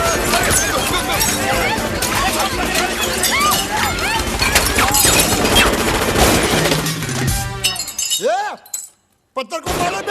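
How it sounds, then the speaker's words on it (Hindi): A rapid, chaotic fusillade of gunfire rings out in a Hindi Bollywood comedy movie scene, mixed with clattering, shattering impacts and shouting voices, before cutting to brief near-silence and a few final sharp sounds. "गोलियां कौन चला रहा है रे?"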